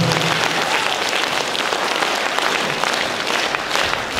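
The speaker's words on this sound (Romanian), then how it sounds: "aplauze pentru nemuritorii!" Concert audience in Dondușeni applauding steadily, dense continuous clapping from a large crowd filling the hall at full volume throughout.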